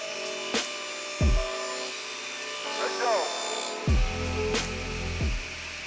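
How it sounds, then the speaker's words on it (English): A saw cutting wooden pieces set at an angle with a miter gauge makes repeated short, loud bursts over a steady motor hum, heard nearby with a voice speaking over it. "I set my miter gauge to 41 degrees and carefully made the cuts."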